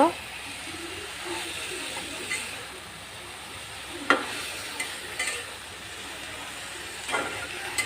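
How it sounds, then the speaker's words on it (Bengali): Pumpkin greens with potato being stirred with spices in a pan, soft scraping strokes and a faint sizzle at low volume, with a few sharper utensil knocks scattered through. "শাকটাকে এখন আমি মশলার সাথে নেড়ে চেড়ে ভালোভাবে মিক্সড করে নিব"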